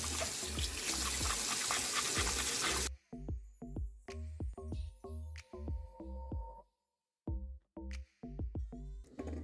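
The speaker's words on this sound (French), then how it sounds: "Je viens rincer." Tap water runs loudly for about three seconds over makeup brushes, then stops, giving way to a rapid series of close wet clicks, squelches and drips as the bristles are squeezed and handled.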